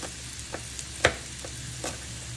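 Chopped young garlic frying in a pan with young potatoes, a steady soft sizzle broken by a few sharp scrapes and taps of a utensil, one louder clack near the middle, close and with no talking.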